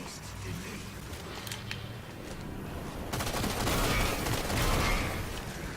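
Gunfire from Halo 4 crawlers, a dense mid-distance rattle of automatic shots that grows heavier midway, under a player's steady commentary.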